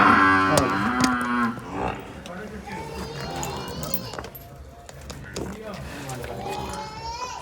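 A buffalo at a farm lows several times amid farmyard noise, the calls moderately loud and close under someone talking throughout.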